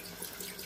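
Tap water runs steadily into a sink as a cooking pot is rinsed, a brief close hiss of flowing water with soft splashing.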